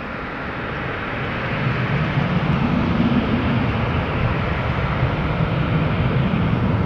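An airplane taking off down the full length of a runway at Tampa, a continuous broadband engine roar heard from a distance, swelling after the first seconds and holding steady.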